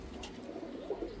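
Roller pigeons give a soft, low cooing close by, a short murmuring call rising and falling over quiet background.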